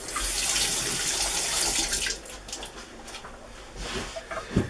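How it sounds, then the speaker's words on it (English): Tap water running at a sink while hands are washed, a steady close hiss and splash that eases partway through into softer, uneven trickling and spattering. "I'm just going to wash my hands"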